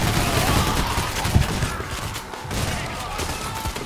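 Rapid shotgun and gunfire exchanges in the heist video game Payday: The Heist, a dense, loud barrage of overlapping shots with heavy thumps, sustained throughout.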